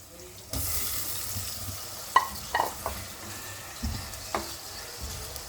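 Tomatoes drop into a pan of sizzling chicken masala for matar chicken salan, a steady frying hiss punctuated by several sharp splashy crackles and clatters as the pieces land, fairly close with no talk.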